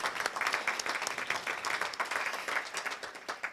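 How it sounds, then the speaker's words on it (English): Residents and guests clap at a groundbreaking celebration for the Creekside Senior Living Center. The applause is lively and fairly close, with crisp overlapping claps in a quick, uneven rhythm, and no speech is heard. "let's give you all a round of applause"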